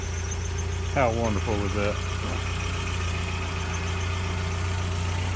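A 1982 Toyota 4x4 engine idles steadily and close, a low constant rumble throughout, with a voice speaking briefly over it near the start.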